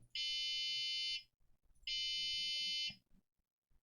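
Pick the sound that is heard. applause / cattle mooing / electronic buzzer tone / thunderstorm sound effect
electronic buzzer tone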